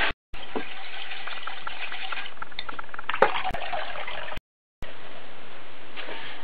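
Black-eyed peas being rinsed in a pan of water, a continuous close splashing and sloshing with short gaps, no voice over it.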